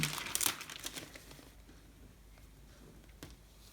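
Crinkling and rustling of contact paper being applied over glass, loud bursts at first, then softer smoothing rubs fading into quiet.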